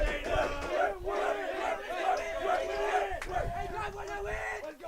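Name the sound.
restless baseball crowd cheering to urge offense on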